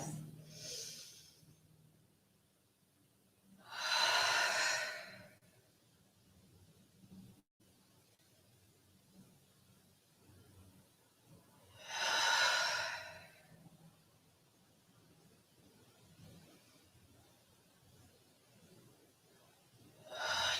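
Slow, deep breaths during a vinyasa yoga flow, two long audible exhales spaced about eight seconds apart with quiet inhales between, close and soft in an otherwise still room.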